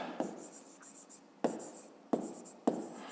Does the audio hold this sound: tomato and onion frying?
no